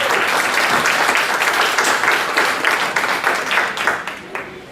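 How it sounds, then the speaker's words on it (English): An audience claps for a team at a STEM café grand opening, a full, steady burst of applause close by that thins out toward the end. "Round of applause for the team."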